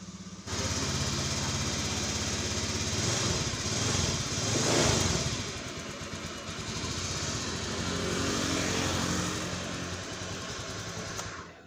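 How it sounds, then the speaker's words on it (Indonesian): A Honda Beat ESP motorcycle engine starts up after a new ECU is fitted, then idles and revs steadily at close range, a continuous buzzing run with a brief swell around the middle. "pemasangan ECU berhasil, motor sudah nyala kembali"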